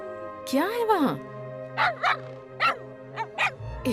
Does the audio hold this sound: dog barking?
yes